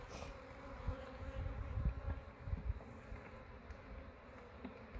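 Honey bees buzzing around a backyard hive being opened by a beekeeper, a low, steady, faint hum with soft handling noises mixed in.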